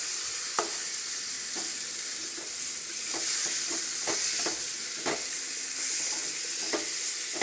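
Chicken curry frying dry in a pan with no water added, a steady close sizzle and hiss broken by repeated scraping stirs of a spoon against the pan, no voices.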